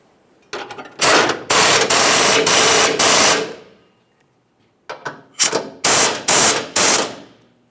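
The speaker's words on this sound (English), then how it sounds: "let's go ahead and snug them up using our 14mm" A 14mm socket ratchet snugging up frame bolts while a Ford F-150 air suspension helper spring kit is installed, two bursts of loud, rapid ratcheting strokes separated by a short pause, close and alone.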